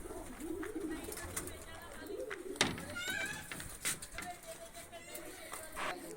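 Pigeons coo in soft, rolling bursts in their new coops, mixed with flapping and other bird calls, while someone talks and hands out feed nearby.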